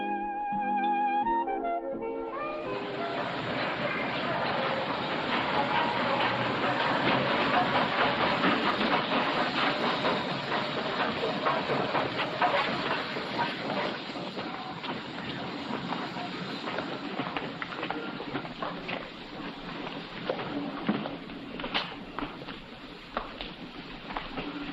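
Train departing for Paris, a long continuous rumbling hiss of wheels and carriage noise that starts after a short musical tone and carries on steadily, moderately distant, with no voices.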